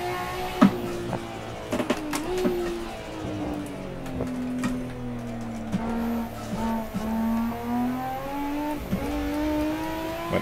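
A car engine in Assetto Corsa, a legends mod car, revs steadily and climbs through the gears, with a rising-and-falling engine note, quick upshifts and brief tire squeal throughout.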